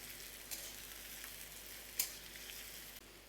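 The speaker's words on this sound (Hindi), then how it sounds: "अभी मैं थोड़ा सा लहसुन ऐड कर देंगे और एक प्याज भी ऐड कर देंगे। अभी मैं 2 मिनट में फ्राई करेंगे।" Garlic and onion frying in a pan for an egg and eggplant dish, a faint, even sizzling hiss with a couple of small crackles.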